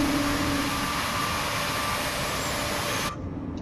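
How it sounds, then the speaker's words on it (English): Airbus A220 jet engines in Microsoft Flight Simulator hold a loud, steady broadband roar with a faint whine, then the sound cuts off abruptly near the end. "Just like any Airbus plane, you need to give it a lot of throttle to go forward."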